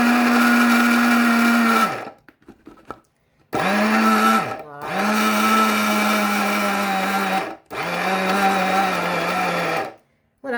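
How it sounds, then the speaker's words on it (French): An electric coffee grinder grinds pepper into powder in loud, whining motor bursts of about two to three seconds each, separated by short pauses, with the pitch sagging as each burst winds down. "c'est avec cet appareil également que je fais mon poivre en poudre. C'est tout simplement un appareil pour faire le café."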